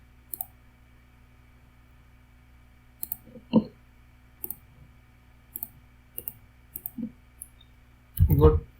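Computer keyboard and mouse in use, scattered sharp clicks and short bursts of keystrokes at irregular intervals, close and crisp against a quiet room, with a louder clatter near the end.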